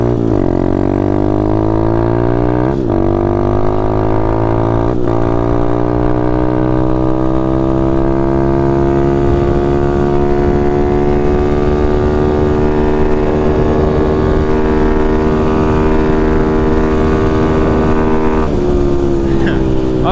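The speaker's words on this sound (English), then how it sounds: "I'm gonna let my bike cool off in a bit, because that doesn't really sound that good" A Taotao DB17 125 dirt bike with an upgraded carburetor holds a loud, droning high-rev engine note at top speed, with two brief dips early on, then a steady rising whine.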